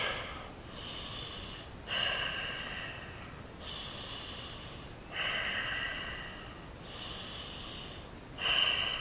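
Slow, heavy breaths during a power yoga workout repeat in a steady rhythm, each long exhale hissing through the nose, close and fairly quiet with no talking.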